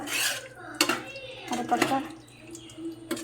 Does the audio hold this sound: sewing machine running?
no